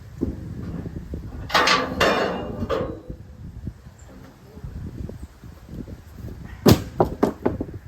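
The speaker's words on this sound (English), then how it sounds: "now we're finally taking the board off" A wooden deck board being pried and pulled off an auction trailer outdoors: close creaks, wood knocks and clattering thumps in two bursts, with quieter shuffling and small knocks in between.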